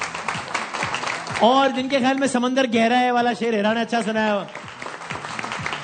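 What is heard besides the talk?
studio audience clapping to vote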